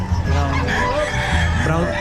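Brown chickens for sale at a Bocaue market stall cluck and crow close by in a continuous, busy chorus, with people talking nearby.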